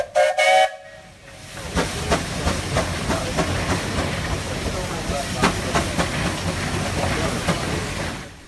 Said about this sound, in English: They chug, rumble, and whistle like a railroad steam locomotive.